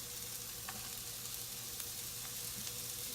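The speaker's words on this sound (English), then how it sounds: "I'm going to add our onion." Onion hitting a hot pan for scrambled eggs, giving a steady close sizzle and fry crackle with a few brighter pops, over a constant low hum from a kitchen extractor fan.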